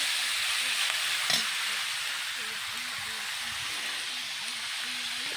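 Food fries in a pan with a steady, dense hiss as it is stirred, close and fairly loud, with a brief clatter early on and faint voices in the background.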